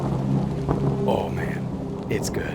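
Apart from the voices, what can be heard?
thunderstorm and rain ambience from the video game Hollowbody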